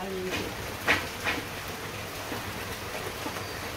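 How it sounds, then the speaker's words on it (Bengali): Heavy rain falls steadily in a Bangladeshi village during the rainy season, a continuous broad hiss with a few louder drips, while people talk nearby over it. "আমাদের সারাদিন আজকে বৃষ্টি হইতেছে"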